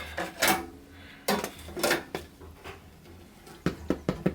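Knuckle taps on the underside of a baked loaf filled with Camembert, a handful of dull hollow knocks in irregular clusters, close and clear with no talking.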